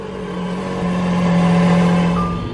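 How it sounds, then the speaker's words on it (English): Lamborghini Aventador S engine running as the car is switched on, a steady, close, humming drone that swells slightly and then eases, with no talking. "So this is how you turn on the car."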